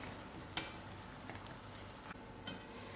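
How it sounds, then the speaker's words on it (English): Tomato chutney cooks in a pan while a utensil stirs it, a steady soft sizzle broken by a few light scrapes and knocks, close and alone. "I'll give this a good stir and allow it about 10 minutes for all the tomatoes to cook."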